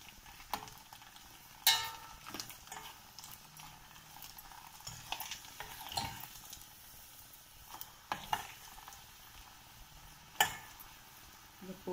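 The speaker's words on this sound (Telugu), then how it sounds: "ఇలా ఫ్రై అయిన తర్వాత రెడ్ చిల్లీ వేయాలి" Red chillies fry in hot oil for a tempering, giving a soft continuous sizzle broken by scattered sharp crackles and pops, with occasional stirring scrapes close by.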